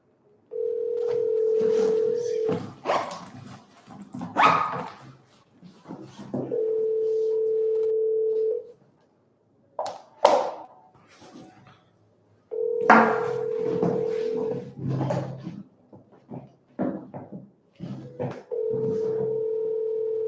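Outgoing telephone call: steady tone bursts alternating with short dialing clicks and pauses, the ringback pattern repeating several times across the span, fairly loud and with no talk over it.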